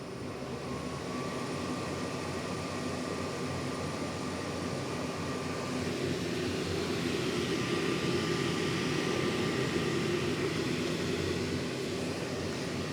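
Fan of an AtomStack 55W Hurricane CO2 laser's fume extractor blowing air out through its filters, a steady, close, fairly loud whoosh with a low hum that holds evenly throughout.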